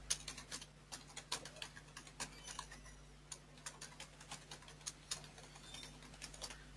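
Gmail account credentials being typed on a computer keyboard: quick, faint, irregular key clicks in short bursts, alone with no voices.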